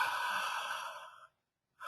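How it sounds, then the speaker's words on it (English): A long, deep breath out through the mouth, close and soft, a steady airy exhale that fades away before a brief pause and the start of another breath. "just breathe out"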